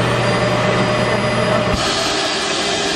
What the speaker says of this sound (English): all you have to do is just vacuum and turn that on and it'll suck it up